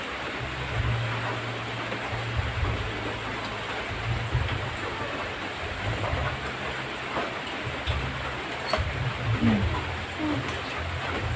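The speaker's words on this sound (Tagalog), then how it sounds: "Ulan man" Steady rain falls outdoors as a continuous dense hiss, with a low humming tone running underneath for part of the time.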